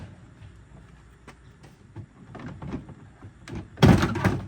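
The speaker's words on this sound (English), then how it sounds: "Now we can take this bumper off. Real easy. Pops right out." Toyota Camry rear bumper being pulled off, with scattered plastic clicks and taps building to a loud cluster of pops and clunks as the clips release near the end.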